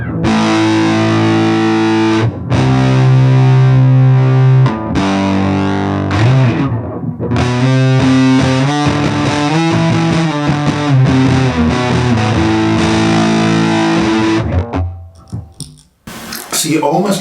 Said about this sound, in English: So you almost get this sound of kind of dying amp.